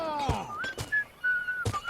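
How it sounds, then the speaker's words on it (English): A whistled tune drifts through the video game Might & Magic X Legacy, wavering melodic notes broken by a few dull thumps. "The whistling is kind of crazy"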